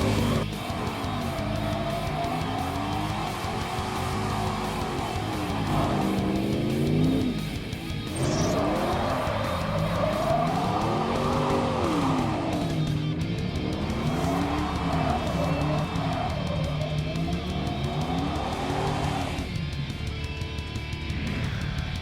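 A Ram 1500 Express regular cab short bed truck with lowered suspension, sway bars and wide performance tires weaving hard around cones, engine droning steadily while the tires squeal and howl in repeated waves through each turn.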